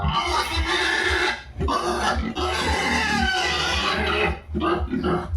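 A sow pig grunts repeatedly in loud, rough, close bursts, with short pauses between the grunts. No one speaks.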